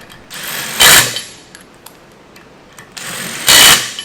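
A 1/4-inch Mac Tools bit driver torques lug nuts toward 200 foot-pounds, two short bursts of loud, harsh mechanical rattling hammering about three seconds apart, with quiet gaps between them.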